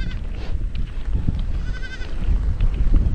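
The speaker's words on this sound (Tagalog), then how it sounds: "yun nga palang kambing kahapon na tatlo ang anak" A goat bleats nearby on a farm, a wavering cry rising over steady low rumbling background noise, with a few fainter calls around it.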